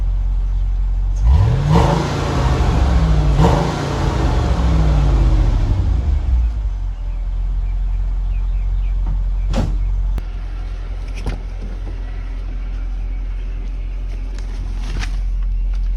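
A neglected 2002 Mercedes-Benz CLK430 AMG engine cranks and catches, revving up with a rising and falling whine, then settles into a steady idle with a few sharp clicks.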